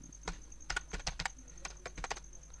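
Java code typed on a computer keyboard, quiet clusters of quick key clicks in an uneven rhythm, close and alone with no talking.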